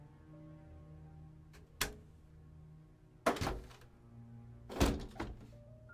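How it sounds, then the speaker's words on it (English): A stuck, locked window being forced open: three separate heavy thunks and rattling knocks spaced a second or more apart, close and sharp against a quiet background. "I have to basically do what I just did to that lock to my window to open it"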